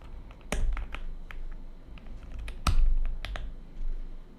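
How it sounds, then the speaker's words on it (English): Keycaps pressed one after another onto clicky switches of an Akko 5098B custom screen keyboard, giving a handful of sharp, close plastic snaps and clacks at irregular intervals over a quiet background. "So now we take the keycaps and press it on top of it."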